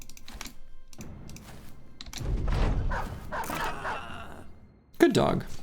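A dog in a video game barks and bites amid clacking keyboard-like thuds and combat noise, with someone talking over it in bursts.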